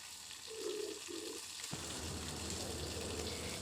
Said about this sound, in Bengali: তো ক্যাপসিকামগুলোকে অল্প হালকা করে ব্রাউন করে ভেজে নিয়েছি